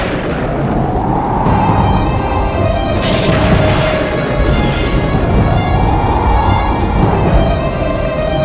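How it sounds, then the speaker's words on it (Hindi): A dramatized storm: steady, loud rain hiss runs throughout while deep thunder rumbles swell and fade, with no voices. "तूफान आया है, तूफान!"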